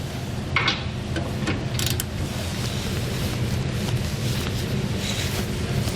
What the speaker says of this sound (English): You are going to want to grab a long breaker bar or ratchet just to help break these loose